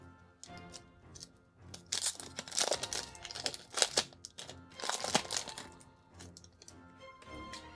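A Dragon Ball Super card game booster pack is torn open and its foil wrapper crinkled, producing bursts of close, crisp ripping and crackling with short pauses between.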